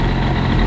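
An Airsal XT 77 nitro model engine runs steadily at close range, a loud, dense, continuous buzzing roar with no pauses or changes in pitch.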